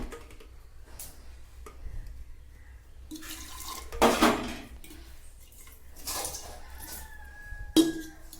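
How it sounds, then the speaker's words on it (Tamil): Water is poured into a water bottle in a home kitchen in the early morning, a short splashing trickle among light clinks of dishes and scattered drips, close and fairly quiet. "இப்போ நான் போயிட்டு வாட்டர் பாட்டிலில் தண்ணி ஊற்றுறோம்"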